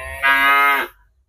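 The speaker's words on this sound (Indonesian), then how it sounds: "Sorry, banyak suara sapi." One loud, close cow moo, a rising drawn-out bellow lasting under a second near a house veranda, fading into quiet.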